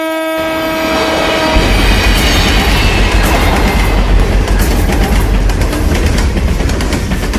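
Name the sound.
train passing through a station, horn sounding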